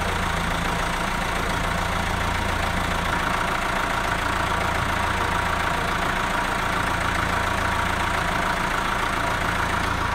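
A vehicle engine idles steadily in first gear, a constant low rumble with a broad mechanical hiss, close and unbroken throughout with no talk.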